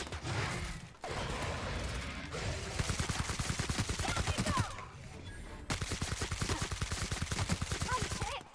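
Rapid automatic gunfire in The Outer Worlds, long bursts of evenly spaced shots broken by short pauses, close and fairly loud over game ambience.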